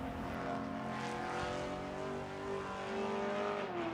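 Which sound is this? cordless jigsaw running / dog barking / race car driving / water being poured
race car driving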